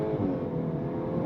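A 2026 VW Golf R hatchback pulling hard off a launch-control start, its engine a steady, dense roar held close and loud throughout, with no voices over it.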